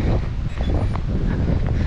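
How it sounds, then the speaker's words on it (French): Wind buffeting the microphone with rain outdoors during a training run for the Berlin marathon, a steady noisy rush that fills the whole stretch with no talking. "Sous la flotte et le vent bien sûr."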